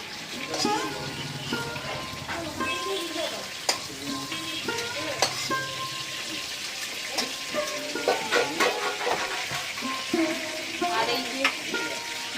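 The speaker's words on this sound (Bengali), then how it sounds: "এখন এই পটলটা আলুটা ভেজে নিতে এসছি এটা ভেজে নিয়ে তরকারিটা বসাবো" Pointed gourd and potato pieces sizzle steadily in a pan on a home stove, with frequent scraping stirs and clinks of a utensil throughout, while people talk nearby.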